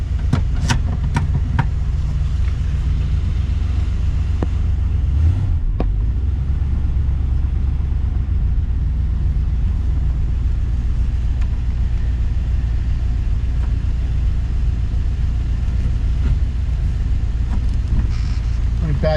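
A 1958 Packard's engine idles steadily as a low, constant rumble while the car is shifted through its gears, with a few faint clicks and soft speech underneath.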